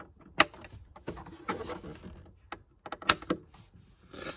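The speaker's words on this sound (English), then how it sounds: "Latch works." Glove box latch on a C6 Corvette, a fragile thin-plastic mechanism, clicking and clacking as it is worked: two sharp snaps about 2.7 seconds apart, with softer plastic rattles and knocks between them, close up and alone.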